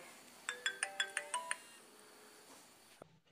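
A telephone ringtone plays in a comedy film, a quick run of about seven bright electronic tones in a rising melodic pattern, clear and close, followed by quiet and a brief thump.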